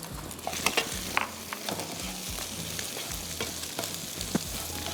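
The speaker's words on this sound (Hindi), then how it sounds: "और इसमें आप डाल देंगे प्याज, हाफ कप।" Half a cup of chopped medium onion frying in a pan with stirred egg for Schezwan noodles: a constant close sizzle with repeated scraping stir strokes and light clinks, and no talking.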